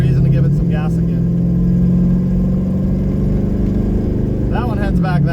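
A 1993 Chevy Blazer's engine hums and revs steadily while driving along a back road, a loud close drone with a rising note, and someone talking briefly at the start and end.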